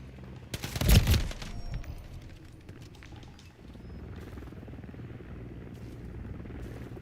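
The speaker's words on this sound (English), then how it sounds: "Hostile Overwatch helo in the area." An enemy Overwatch helicopter in Call of Duty: Modern Warfare starts with a loud, sharp burst of gunfire-like blasts. A steady, low rotor rumble follows and carries on to the end.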